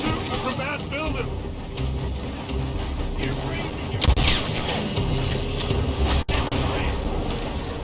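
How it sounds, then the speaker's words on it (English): Gunfire in a Red Dead game shootout, irregular bangs and cracks scattered under steady action noise while people talk over it throughout. "They're shooting from that building."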